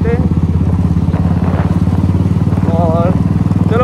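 A motorbike engine runs steadily and loudly close by, a throbbing, even low rumble lasting the whole stretch, with a voice faintly audible over it.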